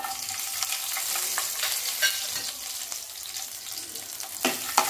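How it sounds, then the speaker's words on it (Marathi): Cumin, mustard seeds, five or six small dried red chillies and whole garlic cloves fry in hot oil for a spinach dish. A steady, close sizzle carries on throughout, broken by occasional stirring clicks, with no voices. "थोडीशी मिरची परतून घेऊया तेलामध्ये"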